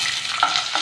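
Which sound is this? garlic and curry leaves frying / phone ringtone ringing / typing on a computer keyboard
garlic and curry leaves frying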